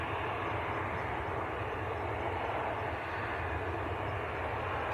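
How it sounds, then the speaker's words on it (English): EasyJet airliner passing at Manchester Airport, a moderate, steady low engine rumble and roar in the background, even throughout with no voices. "EasyJet in the background."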